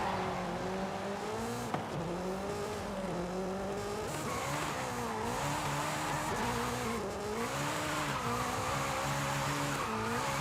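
A car drifting in Forza, its engine holding a steady high-revving drone while tires squeal and skid continuously, loud and up close, with no talk.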